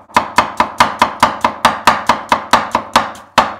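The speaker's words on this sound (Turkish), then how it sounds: "Domatesi de aynı şekilde ince ince doğrayacağım" A knife finely chops tomato on a cutting board, about fifteen crisp, evenly spaced strikes in quick steady rhythm, close and clear with no talking.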